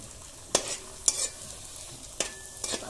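Luchi fry in hot white oil, giving a soft continuous hiss punctuated by four distinct scraping clatters of a utensil against the pan, heard up close with no voices.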